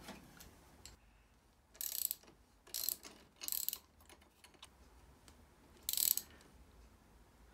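Ratchet loosening a handlebar riser bolt on a KTM Duke motorcycle, heard as four short bursts of rapid clicking separated by quiet pauses, close and fairly faint, with no talking.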